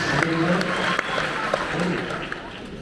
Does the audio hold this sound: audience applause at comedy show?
yes